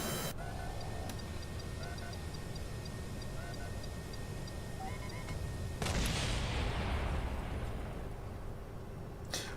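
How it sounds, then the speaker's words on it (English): Missiles fire from a deorbit fighter craft in Kerbal Space Program: faint ticking and beeping, then a sudden loud whooshing burst of launch noise that trails off over several seconds. "Oh, missiles away."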